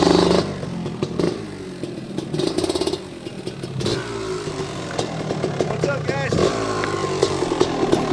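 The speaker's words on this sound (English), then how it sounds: "Feast your eyes on this extremely rare and pristine 1991 KDX 250R." A 1991 Kawasaki KDX250R two-stroke dirt bike engine runs close by, with uneven revving and a rattly, buzzing idle, pitch rising and falling through bursts of throttle.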